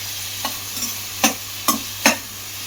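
Onions and cabbage being stir-fried over a high flame, with a steady sizzle underneath and four or five distinct spatula scrapes and clatters against the pan at uneven intervals.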